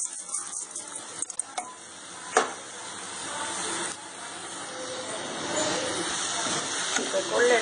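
Horsegram tipped into a pan of juicy, sizzling tomatoes, a rattling pour followed by a steady hiss and sizzle that builds toward the end, with a voice speaking over it.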